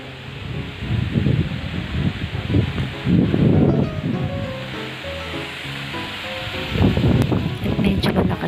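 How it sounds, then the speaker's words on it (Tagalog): Strong wind gusts outdoors at Fantasy World in Lemery, Batangas, a castle-themed park, rushing and buffeting the microphone in loud swelling bursts that rise and fall, with a faint high whistle near the end. "At medyo malakas nga po yung hangin, naririnig nyo po sa video."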